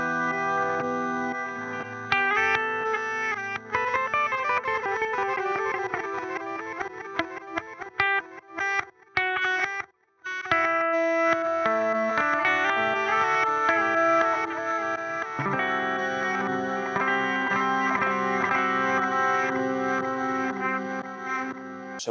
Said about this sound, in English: So we've got a reverse delay on there